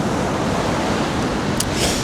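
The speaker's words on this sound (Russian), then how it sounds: "Вообще как-то не верится, что это Атлантический океан. Он такой спокойный по сравнению с Тихим." Calm Atlantic surf rolls onto a beach near Cádiz as a steady, even wash of broadband noise, with a brief soft rush of water near the end.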